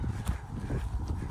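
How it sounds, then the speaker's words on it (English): Horses on a country road clip-clop steadily at a walk, a dull rhythmic thudding under wind noise outdoors, fairly near and moderately loud. "So many horses."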